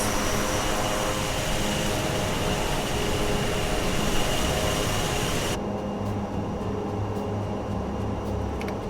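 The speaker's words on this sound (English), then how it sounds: "off we go in our big pink plane" Big pink airplane in flight in Microsoft Flight Simulator 2024, a dense steady engine drone and rushing air noise that stays loud and constant throughout, with no talking.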